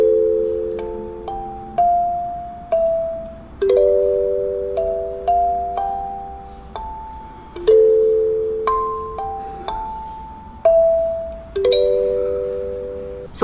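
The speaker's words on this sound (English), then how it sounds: "we're hitting the tines alternately left and right" A kalimba's metal tines plucked alternately by left and right thumbs, giving a steady stream of bright, bell-like notes that overlap and ring out, played close and alone.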